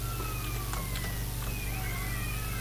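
A police motorcycle siren in the video game GTA San Andreas wails and sweeps in pitch over a constant loud engine drone and rumbling noise.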